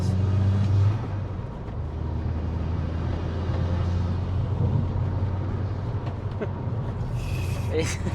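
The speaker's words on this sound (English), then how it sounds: "was just saying off camera to Ollie, What is it about cars with exhaust intake noises that actually makes us happy?" A REVO-tuned VW Golf GTI Edition 30 Mk5 engine rumbles steadily with deep exhaust and intake drone, close by, while people talk over it.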